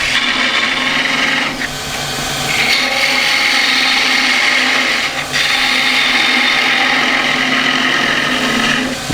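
Wood lathe turning hard timber for a small pendant, a loud continuous whirring hum with a cutting tool scraping steadily against the spinning wood, brief dips where the tool lifts off.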